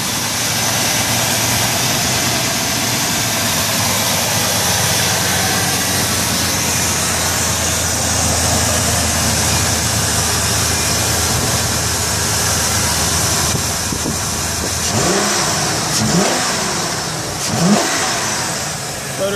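A 2002 Ford Excursion's 6.8 liter V10 with an aftermarket cold air intake runs steadily near the microphone, a continuous engine drone with a few brief swells of revving toward the end.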